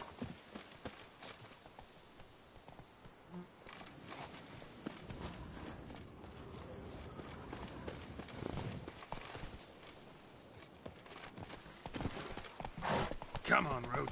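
Hoofbeats from Roach, Geralt's horse in The Witcher 3: Blood and Wine, clopping at a walk along a path, moderately loud, mixed with game background sound and passing voices.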